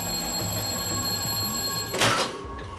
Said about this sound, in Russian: Нас сопровождал громкий звонок.